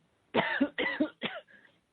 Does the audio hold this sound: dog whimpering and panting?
no